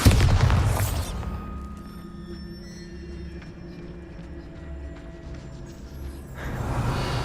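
A Bombarda blasting spell goes off in Hogwarts Legacy: a loud booming burst at the start, a quieter hum through the middle, and another swell of blast noise near the end.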